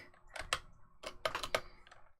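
Bursts of typing on a computer keyboard, clustered keystrokes in two quick runs, close and fairly quiet with no talking.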